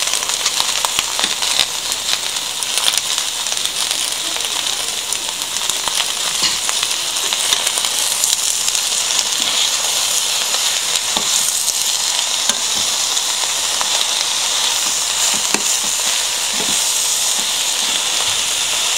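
Fresh spinach leaves, about 300 grams and already washed, sizzle steadily in a frying pan for a spinach shakshuka, a continuous bright hiss close by and alone, with no talk.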